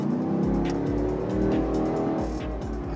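A car fitted with a Pedal Commander throttle controller revs hard through repeated quick gear changes, its engine note climbing and dropping in a steady rhythm, loud and close from inside the cabin.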